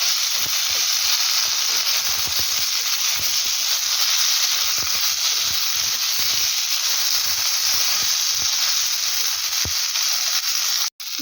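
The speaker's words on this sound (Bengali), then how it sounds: "আর মাত্র 2 চামচ সানফ্লাওয়ার অয়েল দিয়ে তাকে ফ্রাই করব" Food frying in a little sunflower oil, a loud steady hiss and sizzle held close throughout, with occasional low knocks of stirring beneath, no voices.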